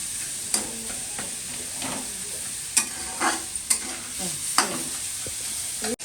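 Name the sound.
fish frying in a wok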